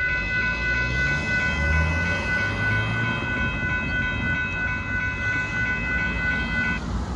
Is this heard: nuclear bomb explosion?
no